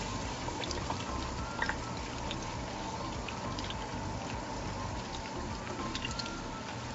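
A steady sizzle and crackle of tortillas frying in hot oil, with scattered pops and spits, continuous throughout and no speech.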